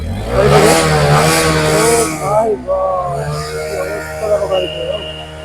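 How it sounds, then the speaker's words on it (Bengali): A delivery rider's motorbike, with engine oil recently added, starts and revs loudly close by. Its buzzing engine note rises and falls, then settles to a lower idle. "তো গাড়ি স্টার্ট আমি দিয়ে দিলাম"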